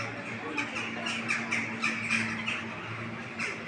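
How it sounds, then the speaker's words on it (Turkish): Repeated harsh squawks and caws from a flock of crows, overlapping in an irregular chatter over steady background hum, moderately distant. "kargaların sesini duyuyorsunuz"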